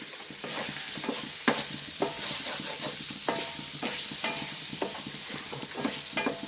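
A wooden spoon stirs mutton roast in a pan, its scrapes and knocks landing in an uneven rhythm over a continuous close frying sizzle, with no voices.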